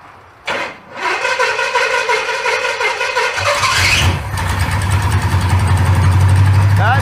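A project car engine cranks and fires after a fuel pump fix, catching with a rough rise in revs before settling into a loud, steady idle close by.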